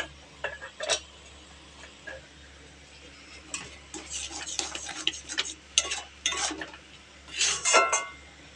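Green pea paste with spices and coriander leaves being stirred and sautéed in a pan for pea kachori filling, a faint low sizzle under repeated scraping and clinking of a spatula against the metal pan, strokes coming in irregular bursts.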